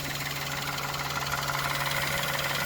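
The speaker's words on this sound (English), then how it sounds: "just to prove that the engine is still running" A car engine idles in a freshly cleaned, steaming engine bay, a steady close-up hum with a low drone and even mechanical clatter, no voices over it.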